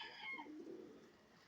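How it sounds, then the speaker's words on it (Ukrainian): A dove coos softly once, a low gentle call fading out, fairly faint against quiet background. "Такі голубки."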